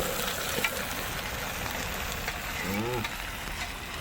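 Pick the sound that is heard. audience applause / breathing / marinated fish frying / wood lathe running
marinated fish frying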